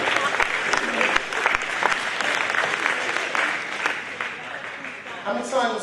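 An audience at a presentation evening applauds in a dense, steady burst of clapping that fades slightly before a voice begins speaking at the end.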